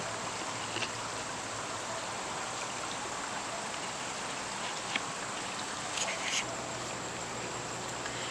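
Steady, broadband rush of a flowing mountain stream near Gatlinburg and Pigeon Forge, constant and fairly faint, with a low hum underneath and a few brief splashy accents; no voices.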